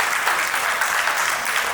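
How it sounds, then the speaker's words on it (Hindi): A crowd at a Diwali function claps for children in a dense, continuous burst of applause that holds at full strength from start to finish. "और उन बच्चों के लिए मैं चाहता हूँ एक बार तमाम हम सब एक ताली बजाएं।"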